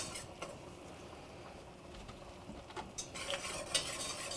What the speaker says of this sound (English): So now we're gonna add our flour, mix this up.